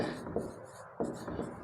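Marker or chalk writing on a board during a physics lesson, giving soft close scratchy strokes in a few short bursts, with no voice heard.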